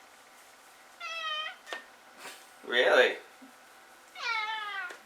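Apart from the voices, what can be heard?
cat meowing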